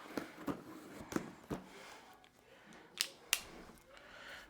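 A Lego set box being cut open, heard as a quiet series of sharp clicks and snaps with brief scraping between them, close up and without talking.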